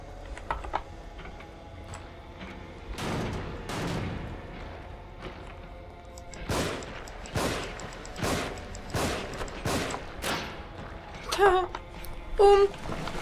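Traps explode in the survival horror game The Evil Within, a series of sharp, loud bursts spaced a second or so apart over a low droning background, closing with a few ringing metallic tones.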